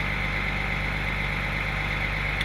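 An excavator's diesel engine running steadily at low RPM during a power check, a constant close hum and drone with a continuous whine above it and no voices.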